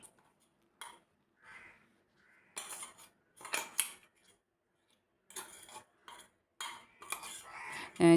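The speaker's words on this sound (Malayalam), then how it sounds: "ഇനി ഇത് നമുക്കൊരു പാത്രത്തിലേക്ക് ഇട്ട് കൊടുക്കാം" Dried prawn chutney powder is moved into a dish, with intermittent close scraping, rustling and light metallic clinks of a utensil against containers, coming in short bursts between quiet gaps.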